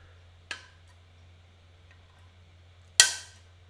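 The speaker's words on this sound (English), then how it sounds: "Sorry about the noise of cutting frames." Two sharp plastic snips as plastic model kit frames are cut, about two and a half seconds apart, against a quiet background hum.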